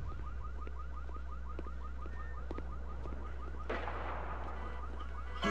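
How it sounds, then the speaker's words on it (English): A car alarm blares from a 1970s pickup truck in The Walking Dead: Survival Instincts, a rapid repeating warbling chirp over a low steady hum, followed by a sudden burst of noise near the end. "70s era pickup truck with an alarm installed"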